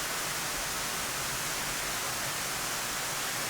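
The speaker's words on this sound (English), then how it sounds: "I like how they had the missile sound." Dense, loud, steady roaring hiss of a missile in an F/A-18C flight video game, continuous and unbroken for several seconds.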